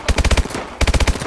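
Rapid automatic gunfire from the Call of Duty Advanced Warfare video game, two close bursts of evenly spaced shots separated by a brief pause.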